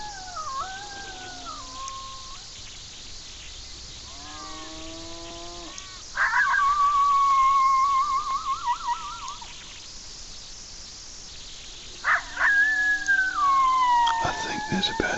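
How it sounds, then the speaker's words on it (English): Wild dogs howl in the distance, several long rising and falling calls with some overlapping, spread out with pauses between them over a faint outdoor background. "So I might just try a single howl rather than back them up."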